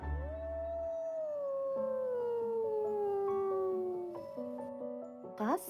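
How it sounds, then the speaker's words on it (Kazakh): A wolf gives a long, clear howl that slowly glides downward while other howling voices overlap it, ending in a few short yips, close and alone. "Қасқыр."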